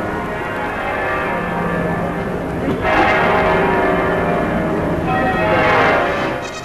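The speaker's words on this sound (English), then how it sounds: "the princess gave permission for the full peal of bells to ring for the first time" Heavy cathedral bells, the world's heaviest and highest ringing peal, ring together in Liverpool in a full, continuous peal, loud and reverberant, with overlapping strikes swelling throughout.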